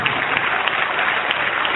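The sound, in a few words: congregation applauding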